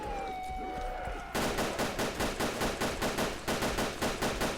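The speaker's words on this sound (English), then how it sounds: "Heaps of shooting going on" Rapid, loud automatic gunfire in the zombie survival game BreakingPoint, with a burst of evenly spaced shots continuing without pause after a short stretch of quieter ambient sound.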